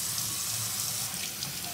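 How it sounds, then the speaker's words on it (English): Tap water runs steadily into a sink, rinsing ice-dyed fabric in a continuous, close hiss with no talking. "I give them a little rinse"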